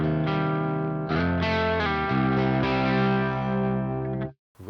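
Crunch-channel electric guitar through a Neural DSP Archetype Nolly X amp, sustained distorted chords ringing loud and close with slight chorus shimmer, changing every second or so before cutting off near the end.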